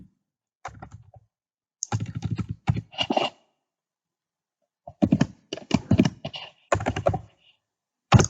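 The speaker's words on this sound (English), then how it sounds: "my candidate number, which is a random number I'm just typing here" Bursts of typing on a computer keyboard as a candidate number is entered, with clustered key taps separated by pauses and close, clear clicks heard alone.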